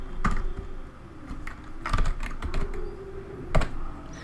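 Clicking keystrokes on a computer keyboard during a record edit, close and crisp, arriving in scattered bursts and single taps with short pauses between.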